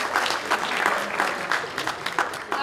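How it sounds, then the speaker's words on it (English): An audience at a Luso-American community gathering gives a round of applause for a new youth board member, producing a dense, continuous patter of many hands clapping that carries on throughout. "Can we give him a round of applause?"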